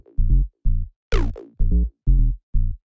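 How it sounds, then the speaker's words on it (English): A squelchy 303 acid synth bass plays a short repeating staccato line of plucked notes, with one note sliding upward in pitch. "then after that, we have the 303, which sounds like this."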